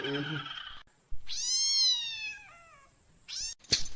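A cat lets out a long, drawn-out meow, followed by a shorter second meow, with brief voice sounds before and a clatter at the end.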